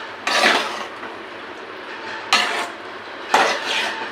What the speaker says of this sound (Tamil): இப்போ நான் எல்லாமே மிக்ஸ் பண்ண போகிறேன்.